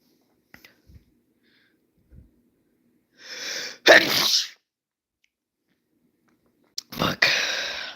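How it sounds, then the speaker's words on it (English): Two sharp sneezes from a person with allergies, each a short loud burst, the first around the middle and the second near the end, with near silence and a few faint clicks between them. "I had to sneeze."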